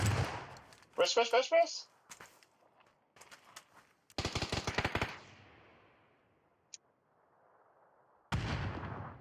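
Rapid bursts of gunfire crack out in a ranked first-person PUBG-style shootout, with a quick rattling volley early on and another dense burst midway, while players shout over the fighting.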